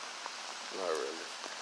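Light rain shower falling outdoors in nature, heard as a soft, steady hiss throughout, faint and even, with a brief murmur of a voice near the middle.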